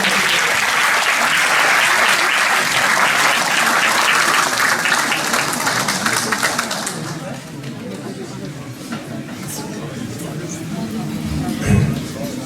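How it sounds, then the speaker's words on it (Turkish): An audience at a university faculty's anniversary gathering in Turkey applauds loudly after a former member of parliament is introduced, the dense clapping fading to a softer patter with murmured chatter and a brief bump near the end. "Sayın Ahmet Tanrı alkışlarla teşekkür"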